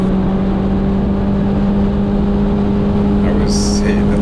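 A Caterham Roadsport 135 drives on the Cadwell Park race track, its engine droning loud and steady under heavy wind noise through a brief lift and back onto the throttle, with a voice speaking over it.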